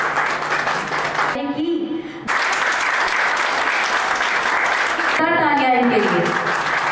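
Audience at a road safety and traffic welfare award ceremony clapping loudly and continuously, with a voice speaking over the applause in two short bursts.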